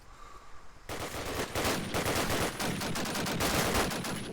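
Dense, continuous automatic gunfire from a Call of Duty: United Offensive match bursts in after a near-silent first second and rattles on loudly without pause, with no voices over it.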